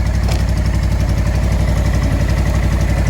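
A motorcycle engine idles close by, a loud, steady, rapid low-pitched putter that stays even throughout, with no talk.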